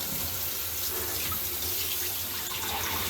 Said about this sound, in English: what we're about to do now is just throw some water in here